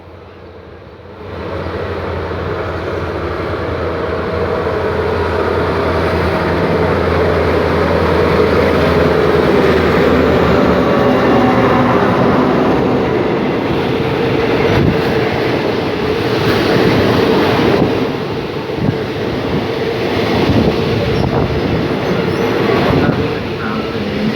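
An Alstom diesel locomotive hauling train 202 rumbles loudly past Samsen station in Bangkok in daylight, with a steady heavy engine drone and rolling wheel noise lasting the full length, close and dominant.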